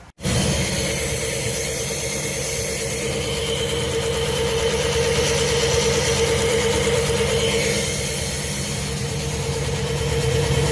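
A car that overheats and leaks oil idles steadily with its hood open, giving a continuous close, loud engine drone with a rough mechanical hum throughout.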